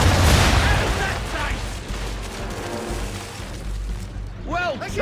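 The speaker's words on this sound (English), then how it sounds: "Bring around broadside, and when all guns are on target, call fire." Broadside cannon fire from a sailing warship in Assassin's Creed 3, a loud booming blast up front that rolls and decays over several seconds, with a brief voice calling out near the end.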